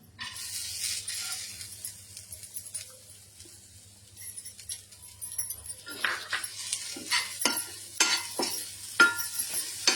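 Green gram is tipped into a heavy pan and stirred, a soft sizzle with repeated scraping and clinking of the spoon that builds in the second half, while a voice talks faintly in the background.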